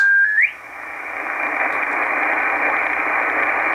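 An Icom IC-R8500 communications receiver sweeps its shortwave band between 14 and 15 MHz, giving a steady, loud hiss of static after a brief rising tone at the start, with no voices.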